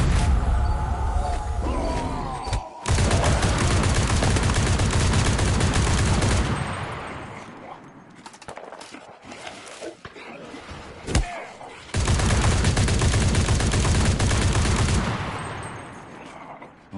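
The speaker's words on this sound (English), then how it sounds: "I'm getting shot in my back." Gunfire in the online shooter CRSED: F.O.A.D. rattles out in long, loud, rapid bursts at close range, broken by a few quieter gaps and sharp single cracks.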